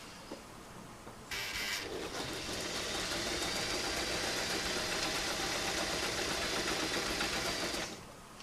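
A domestic sewing machine doing free-motion quilting starts after a brief pause and runs continuously at a steady fast whir for several seconds, then stops; close and clear with no talking.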